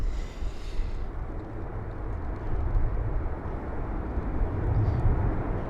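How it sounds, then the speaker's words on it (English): An Avianca Boeing 787 Dreamliner arriving at Heathrow on a windy day produces a steady, broad engine roar that swells slightly as it passes, heard alone with no voices. "There's the Avianca 787."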